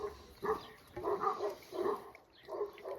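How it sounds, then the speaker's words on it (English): Dogs barking far off near a Miyawaki forest being irrigated: four soft, muffled bursts of barking at a steady spacing, distant and faint. "They heard the dogs barking,"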